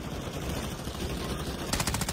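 Rapid video-game gunfire rattles on steadily for about two seconds during a firefight near ruins, with a denser, brighter burst of shots near the end.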